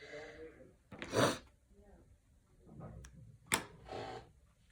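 A single sharp sneeze bursts out near the mic during a quiet slow-stitching session, followed by a second abrupt sneeze or snort a few seconds later, with soft breathing and rustling between.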